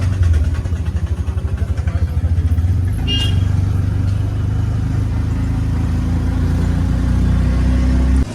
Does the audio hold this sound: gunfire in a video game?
no